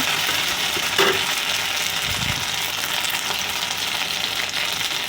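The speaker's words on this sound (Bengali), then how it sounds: "টমেটো দিলাম, দিয়ে ভালো করে কষিয়ে নেব" Tomatoes, ginger-cumin paste, green chilli and five-spice seeds frying for a banana stem dish, a loud continuous close sizzle with a brief clink and stirring scrape, no voices.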